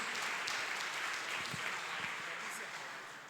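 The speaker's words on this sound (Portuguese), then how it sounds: "você pode aplaudir ao Senhor Jesus" Soft, steady applause from a church congregation, heard from a distance and fading slightly toward the end.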